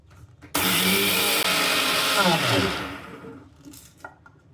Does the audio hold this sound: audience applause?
no